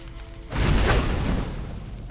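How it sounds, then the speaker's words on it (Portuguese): A deep boom erupts in Skyrim during the Saarthal excavation, rising suddenly after a quiet moment and rumbling on loudly before slowly fading. "Não esperava que o raio da explosão ia ser tão grande."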